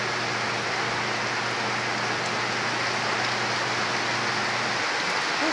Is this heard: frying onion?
no